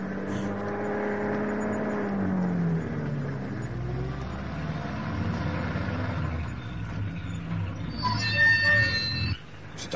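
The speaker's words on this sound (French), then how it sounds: "C'est un camion. Oui, un routier." A 12-ton truck approaches and drives past with a rising and falling engine whir, followed by a brief squeal, while people talk over it.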